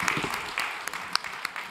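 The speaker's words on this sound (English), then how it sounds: "Let's clap for Hotelbuddy." A startup pitch event audience applauds after a presentation, a short, fairly faint burst of scattered clapping.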